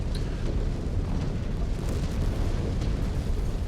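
A deep, sustained rumbling blast from a MechWarrior 5: Clans battle rolls on loudly and evenly for several seconds, a dense low roar with crackling debris on top and no voices.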